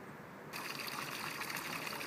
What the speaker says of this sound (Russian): Здесь на холме есть даже вот такой вот фонтанчик чистой горной воды.